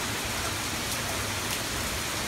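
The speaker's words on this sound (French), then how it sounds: "C'est la première fois qu'il pleut depuis qu'on est là." Steady rain falls in Belgium as an even, hissing wash of drops on surfaces, moderately quiet and constant throughout with no voices.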